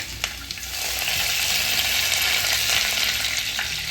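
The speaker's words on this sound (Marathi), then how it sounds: "तेल छान तापलं की त्यात थोडी मोहरी त्यानंतर बारीक चिरलेला कांदा थोडी जास्त कोथिंबीर" Mustard seeds and finely chopped onion fry in hot oil for a Saoji egg curry, a loud continuous close sizzle with faint popping and no voices.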